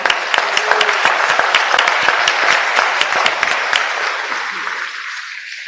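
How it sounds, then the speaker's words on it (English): An audience at an awards ceremony gives a collective round of applause for the awardees, loud, steady, close clapping with sharp individual claps standing out, continuing throughout and easing slightly at the end. "A collective round of applause for everyone"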